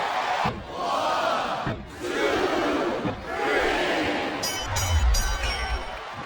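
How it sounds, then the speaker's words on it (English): A WWE wrestling arena crowd roars and cheers in a sustained, loud wave that swells and dips, with bright ringing tones breaking through near the end. "I love hearing the crowd"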